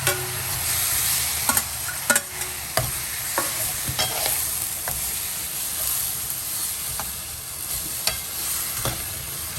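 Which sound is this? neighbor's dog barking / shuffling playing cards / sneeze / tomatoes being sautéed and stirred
tomatoes being sautéed and stirred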